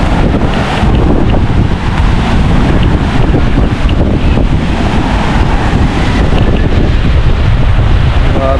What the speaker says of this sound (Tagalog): Ang laki ng alon ng dagat oh.